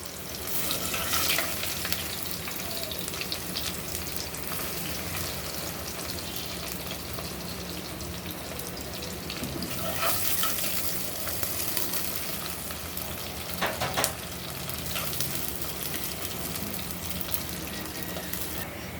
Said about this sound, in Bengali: শুকনা মরিচ ভেজে নিচ্ছি এখন দিয়ে দিব পেঁয়াজ আর রসুন